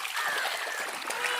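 A small countryside stream flows and trickles with a steady bright babbling wash, close and continuous, with faint voices in the background.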